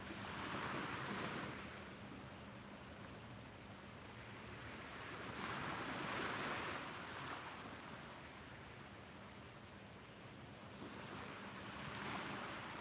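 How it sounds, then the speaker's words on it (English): Ocean waves surge and break on a beach at sunrise in slow, regular swells, with steady wind noise across the microphone between each crest. "I could fall asleep to the sound of the waves this morning"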